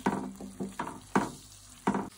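A mushroom and egg mixture fries in a pan over low heat, with a soft sizzle and rhythmic bursts of scraping as it is stirred about every half second.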